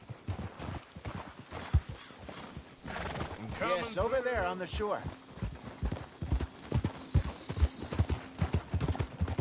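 Horse hooves clip-clop steadily through a Red Dead Redemption 2 gameplay scene, with a horse whinnying partway through; a voice talks over the moving hooves.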